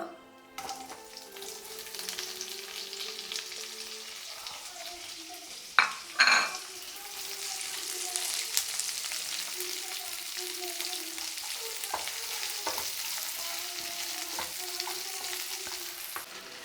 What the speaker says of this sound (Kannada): ಸೊ ಇದು ಸ್ವಲ್ಪ ಫ್ರೈ ಆದಮೇಲೆ ಈರುಳ್ಳಿ ಹಾಕ್ಕೊಳ್ಳೋಣ.